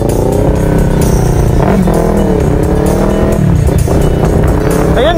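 A Yamaha R3 motorcycle pulls away, its engine loud and close, revving in repeated rising sweeps as it gathers speed, with a steady rumble underneath throughout.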